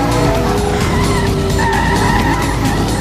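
A McLaren SLR in the racing game World Racing screeches through a controlled skid, its tires squealing loudly and continuously over a roaring engine for the whole stretch.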